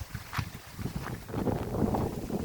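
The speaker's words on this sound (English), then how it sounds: "And we got a little bit of wind." Wind gusting outdoors at a campsite, a rough low rumble buffeting the microphone that grows stronger and steadier through the second half.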